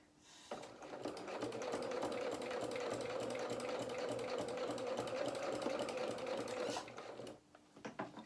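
A sewing machine runs steadily for about six seconds, stitching a quarter-inch seam on a small doll-sized winter coat, with a rapid even mechanical patter that starts and stops cleanly.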